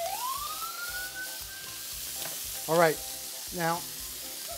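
Bacon sizzles and crackles steadily in a pan, with a thin rising whistle early on and a voice speaking briefly over the frying.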